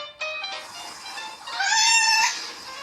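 A cat meows loudly in a played advert, two drawn-out tonal cries, the second louder and longer, over quiet background noise.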